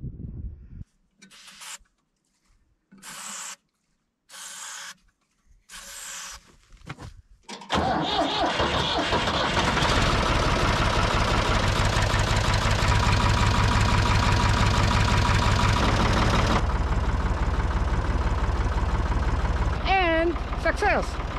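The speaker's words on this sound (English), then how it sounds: "Have to say, I love that magical sound of diesel." A 60-year-old Ford 4000 diesel tractor with an old battery is jump-started outdoors in snow. Several short cranking bursts with gaps between them give way to a loud, steady diesel idle that runs close and continuous until the end.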